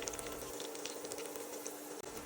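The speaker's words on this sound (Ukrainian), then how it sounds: "Для мачанки смажимо одну цибулю на олії." Onion frying in hot sunflower-type cooking oil sizzles with a steady, close crackling hiss, moderately loud and continuous throughout, no talking.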